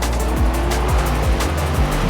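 BMW M8 GTE race car on the Brands Hatch circuit with all four tyres squealing under load, a loud continuous screech over the engine, its pitch dropping in repeated sweeps about every half second.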